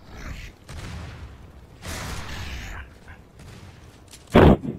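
Gunfire in the video game Gears of War 3, scattered shots with one loud, sharp burst near the end, heard amid game sounds and players talking.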